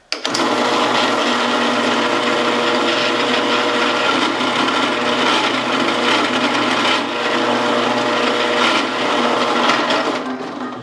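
A drill press drilling and beveling a briar pipe gives a loud, continuous, rough mechanical whir with a grinding, rattling quality that starts abruptly and runs steadily throughout.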